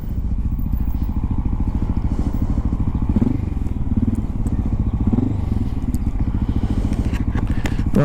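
Honda XR650L dirt bike idling up close with a quiet exhaust, a steady low thumping single-cylinder putter with faint clatter and small rises in revs.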